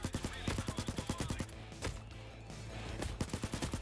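Rapid bursts of automatic gunfire from the VR heist shooter Payday 2 VR, loud and close, coming in rhythmic volleys with a short lull in the middle before another fast string of shots.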